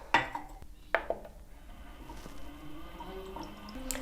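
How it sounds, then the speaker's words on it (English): Faint metal-on-glass clinks from stirring a cosmetic hair colour protection oil blend as it warms on heat: a few sharp taps early, then quiet, low background hum. "So we're just going to start stirring that one and heating it at the same time."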